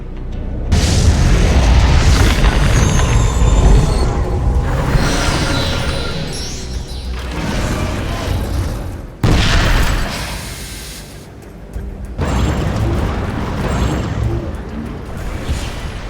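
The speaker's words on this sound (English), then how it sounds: "Ion cannon activated." Ion cannon strikes detonate in Command & Conquer 3, a series of loud, heavy booms with rumbling blasts that swell, fade and return in waves, with faint game voice lines in between.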